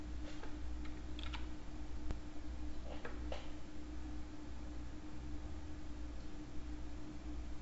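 Computer keyboard keys pressed for a Ctrl Enter shortcut while animating, a few faint, scattered clicks over a low steady hum.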